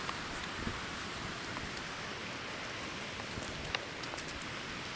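Steady rain falling outdoors in Snowdonia, a dense even hiss of drops with occasional sharper taps close by, and no talking.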